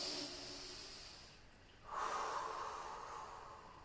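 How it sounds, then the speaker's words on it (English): Slow, deep breathing during a yoga stretch: a long airy exhale fading out, then a strong hissing inhale or exhale swelling up, close to the microphone and fairly quiet, with no talk. "Let's take 3 deep breaths here"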